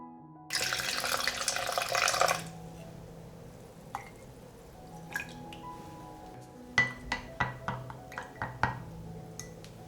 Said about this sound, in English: I will pour 100 milliliters of yeast solution into 1 liter of water.